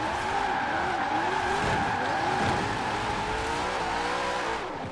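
Tires squeal steadily as a car drifts in Forza Horizon 4 with the Formula Drift pack, a continuous loud skid over a droning engine, the pitch wavering as the slide is held.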